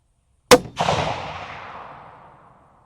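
A single .30-06 rifle shot fired into ballistic gel cracks sharply and loudly, followed a moment later by a second boom and a long, fading rumble that trails off over about two seconds.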